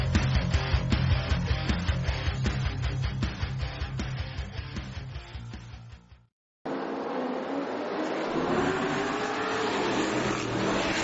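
Street stock race cars roar around a speedway in a racing video game, engines droning loudly with rhythmic pulsing, cutting out briefly before resuming with a higher, shifting whine.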